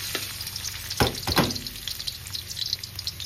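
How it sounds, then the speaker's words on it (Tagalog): Ginger slices sautéing in hot cooking oil for a Bicol Express with milkfish, a steady close sizzle with a couple of sharper splattering bursts, no voices. "nagpainit na ako ng mantika. Magigisa na tayo ng... Unahin natin yung luya."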